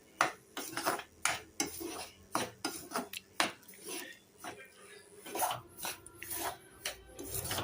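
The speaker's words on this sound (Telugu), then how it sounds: "మనం ఈ రవ్వని మొత్తం పచ్చి వాసన పోయేంత వరకు వేయించుకోవాలి" Semolina (rava) being roasted in ghee in a pan for ravva laddu, stirred with a metal utensil: repeated scraping and clinking strokes against the pan, close and fairly loud, with no voices.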